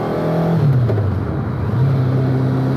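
A Kawasaki ZZ-R1200 engine powering an MK Indy Classic roadster revs up, drops and climbs again, a loud, close, droning engine note with steady road noise.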